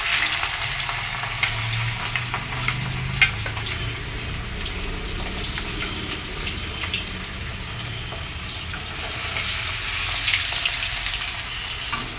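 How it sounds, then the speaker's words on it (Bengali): Fish, including tengra, frying in hot oil in a pan gives a continuous, even sizzle and crackle close by, with occasional soft clinks and no talking. "মাছটা ভাজা হোক"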